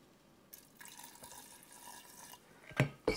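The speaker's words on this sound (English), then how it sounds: "Just pour it a little bit. It's sizzling." Fermented water kefir is poured, giving a soft liquid trickle and faint fizzing, ending with a couple of louder splashy pours near the end.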